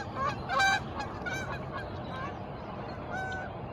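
Geese honking in a series of loud nasal calls, a cluster early on and another after a pause, over a steady outdoor background.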